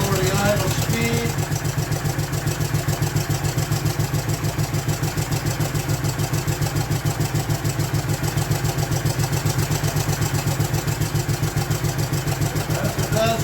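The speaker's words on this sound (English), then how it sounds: "Now I'm going to lower the idle speed." A Honda 450 motorcycle engine idling with its idle speed lowered, a rapid steady low-pitched chugging throughout, close and fairly loud, with a voice briefly audible near the start.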